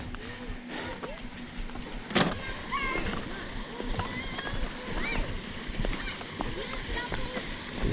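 Mountain bike ridden through a creek crossing on a greenbelt trail, with irregular close splashes and sloshing water around the wheels, broken by short exclamations from the rider.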